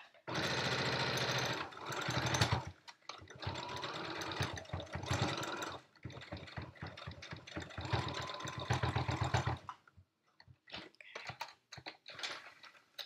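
A sewing machine stitching a Yup'ik qaspeq, running in bursts of rapid mechanical chatter separated by short pauses and handling clicks, close and fairly loud with no talk.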